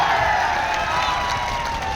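Crowd at a political speech in Bihar clapping and cheering, a dense, steady wash of applause and crowd noise that holds loud and even throughout.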